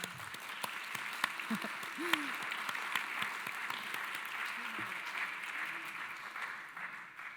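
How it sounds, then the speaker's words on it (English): Sustained audience applause at a closing weekend symposium on James Tissot, a steady dense wash of clapping from a large crowd lasting throughout, with faint murmurs and a few voices underneath. "Can we please give them a round of applause?"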